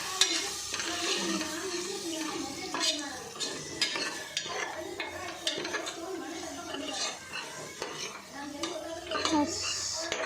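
Chilli powder masala stirred and fried in a pan for tomato bath, a spoon scraping and clinking against the metal in steady strokes over a continuous close sizzle.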